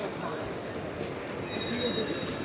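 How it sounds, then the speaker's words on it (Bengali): A passenger train with its engine moves slowly past on the rails, giving a continuous rumble and a high, thin squeal from the wheels, steady and moderately loud. "ওই যে ট্রেনটা দেখছো আমরা যে ট্রেনটা আসলাম, সেই ট্রেনটাতে আবার উল্টো দিকে যাবে"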